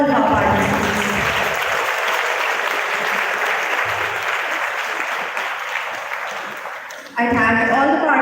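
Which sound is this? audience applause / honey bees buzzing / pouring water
audience applause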